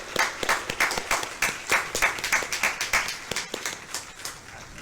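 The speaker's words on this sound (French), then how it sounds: "on peut au moins l'applaudir" A church congregation at Mass applauds a priest on his feast day, steady rhythmic hand clapping that swells and settles at moderate distance in a reverberant space, with no voices over it.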